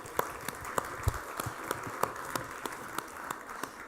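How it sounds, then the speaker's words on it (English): Scattered applause from a conference audience, faint and somewhat distant, with individual claps standing out sparsely over a low room background and some quiet voices. "a huge round of applause"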